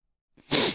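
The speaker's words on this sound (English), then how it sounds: "Try not to sneeze." A single sneeze bursts out close and loud after a brief quiet intake of breath, a short sharp burst with no talking around it.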